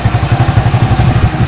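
A repaired stock motorcycle engine, back running after four months unused, idles nearby with a steady, even rhythmic thumping and light mechanical clatter.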